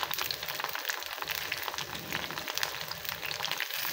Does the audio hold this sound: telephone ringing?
no